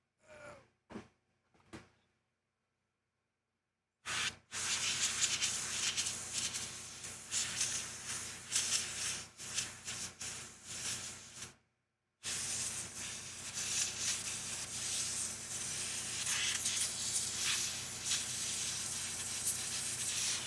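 A can of isopropyl alcohol sprays in long hissing bursts, loud and close, after a few faint clicks and a pause, with a brief gap before the spray resumes steadily.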